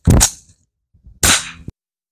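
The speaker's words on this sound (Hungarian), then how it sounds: "elsőnek a 22 LR Winchester lőszer, puska oldalra meglőve" A Taurus TX22 compact fires 22 LR Winchester rounds: two loud, close cracks about a second apart, each with a short ringing tail and no talk.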